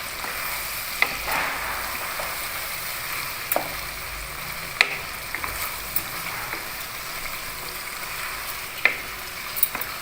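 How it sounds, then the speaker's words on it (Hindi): Ground coriander and garam masala fry in hot oil over medium heat for Lahori murgh chanay, a steady soft sizzle broken by occasional spoon scrapes and stirs. "दरमियानी आंच पे इसको भूनना है हमने।"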